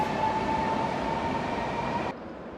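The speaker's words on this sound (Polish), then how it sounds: "teraz następuje podmiana loka i wjeżdża EP09" An EP09 electric locomotive rolls into Wrocław Główny station, a loud steady rail rumble with a sustained whining tone that drops away abruptly near the end, no talk.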